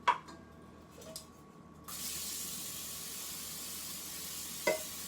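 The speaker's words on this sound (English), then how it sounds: "So you can see I am spraying this pretty well, especially in the cracks" Canola cooking spray hisses from an aerosol can into a cake pan in a steady, close spray lasting a few seconds, with a short click of the nozzle and faint clinks before and after.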